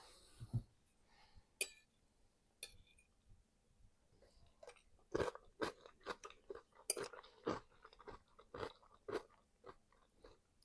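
Crunchy salad of corn, cucumber, salami and croutons being eaten close up, with a series of crisp bites and chewing crunches that grow busier and more rhythmic in the second half, in a quiet room without speech.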